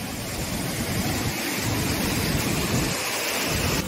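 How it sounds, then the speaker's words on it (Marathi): Water from a Konkan village stream rushes beneath a bridge, a loud, constant close roar with a breezy, churning texture and no voices. "तर त्या व्हाळाचं पाणी सर्व खाली इकडे येत आहे"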